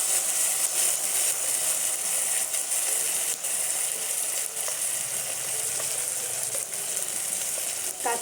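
Soaked ground spice paste hits fried onions in a hot pan for a potato, eggplant and green banana curry, setting off a loud, continuous crackling sizzle with occasional scraping stirs throughout.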